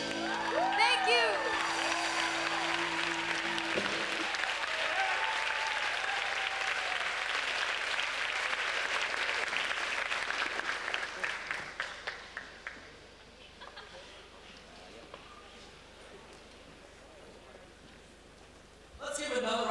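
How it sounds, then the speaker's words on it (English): A school audience applauds a middle school rock band with sustained clapping and a few cheers and whoops, the applause dense and loud before thinning out into quieter room noise near the end. "Let's give another round of applause for the rock band for performing."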